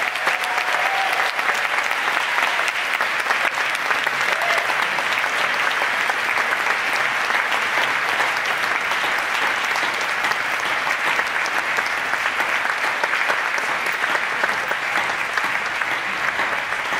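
Sustained audience applause fills a Cannes Film Festival premiere screening in the Un Certain Regard section, a dense, steady roar of clapping from a large crowd lasting throughout without pause.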